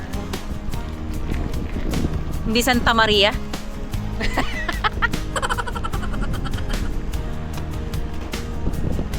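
Strong wind on a hilltop at Monte Maria shrine in Batangas buffets the microphone in a steady roar while people talk and laugh over it outdoors.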